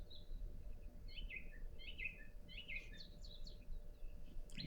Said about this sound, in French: J'entends les oiseaux.